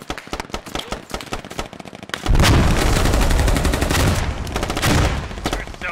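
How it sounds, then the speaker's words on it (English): Combat in the military shooter Squad, with insurgent forces fighting Americans in a city: sharp rapid gunshots crack in quick succession, then a loud sustained roar of heavy fire and explosions takes over, with a few more bursts near the end. "There's so many explosions going off right now."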